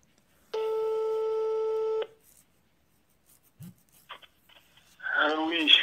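A telephone busy tone sounds after a call is hung up: a steady, clear beeping tone lasting about a second and a half, then a few small clicks and a voice speaking close up.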